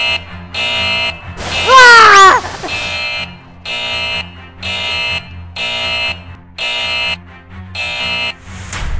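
On a Vietnamese TV game show, a loud wrong-answer alarm buzzer sounds in a regular series of about seven repeated blasts. A voice cuts through early on, and there is talk and noise between the blasts.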